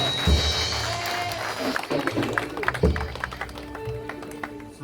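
Wedding guests applaud during a marriage ceremony, a steady patter of clapping with a few louder bursts, while someone speaks over it in a hall.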